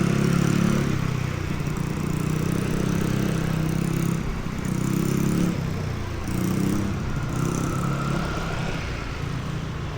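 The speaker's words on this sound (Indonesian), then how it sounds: "Ya, kan motor-motor naik lewat." Engine drone of motorcycles rolling past on a wet, quiet early-morning city street in Jakarta, a steady low rumble with swells as bikes pass nearby, heard from an electric unicycle, no talk.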